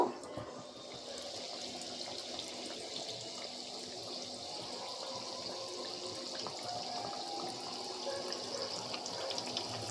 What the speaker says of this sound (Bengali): যেহেতু আমি বড় বড় করে করেছি, 3টে 3টে করে ভেজে নেব।